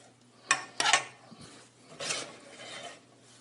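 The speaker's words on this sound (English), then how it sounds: "I'm going to just stir it up" A few close scraping strokes of a utensil against a pan, two sharp scrapes followed by a longer, softer stir.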